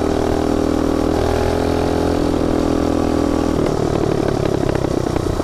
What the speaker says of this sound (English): I'm out riding the mini bike